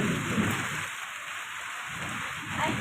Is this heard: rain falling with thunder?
yes